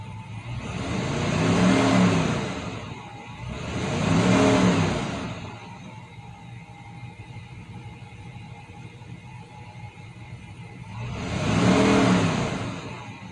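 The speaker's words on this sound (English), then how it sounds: "just rev the gas because you wanna open up the thermostat" A 2004 Dodge Durango engine, being bled after a thermostat replacement, is revved three times, each rising and falling in a swell over a steady idle, close and loud, with no talking.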